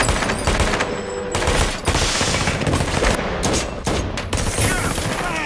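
Gunfire in an action film: loud, rapid automatic bursts and shots ring out repeatedly in close succession, with booming impacts and brief gaps between volleys.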